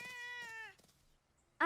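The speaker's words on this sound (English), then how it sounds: "There you are, silly cat." A cartoon cat gives a clear, tonal meow that slides downward, a short quiet pause follows, and then a second, louder meow is cut off at the end.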